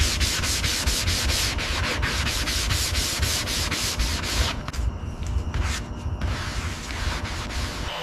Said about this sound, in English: looks like our next step is sanding these bad surfaces first